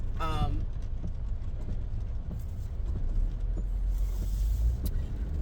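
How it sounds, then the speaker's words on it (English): Cars pass by outdoors as a steady, low traffic rumble that runs the whole time, with brief swells as vehicles go by. "there's cars."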